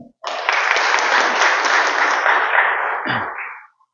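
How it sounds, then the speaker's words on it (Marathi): An audience applauds the organisers of a program honouring a judge who practised law where Babasaheb did, steady dense clapping that swells in at once, holds loud for about three seconds, then tapers off. "त्यात त्यांच्यासाठी टाळ्या होऊ द्या"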